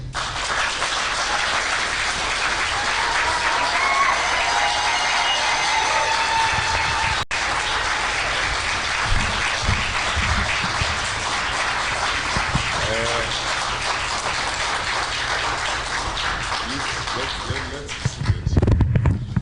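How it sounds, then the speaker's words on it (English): A crowd applauds steadily and loudly for a long stretch at a political event, a dense patter of clapping that ends with a few murmured voices near the close. "I'm going to take this moment to ask you to give a hard applause"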